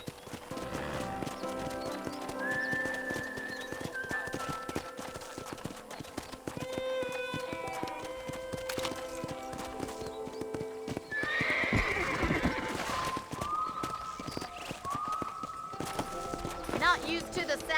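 A horse in the video game Red Dead Redemption trots with steady clip-clop hoofbeats and gives several neighs and whinnies, all under a conversation between characters and backed by ambient game sound.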